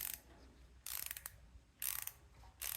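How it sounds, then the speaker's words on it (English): A 1/2-inch ratchet wrench drives a bolt in on a Troy-Bilt tiller during a Predator engine swap, with short bursts of rapid clicking in three separate spells and quiet pauses between them, close up and with no talk. "Takes a 1/2 inch, and just screw the bolt in"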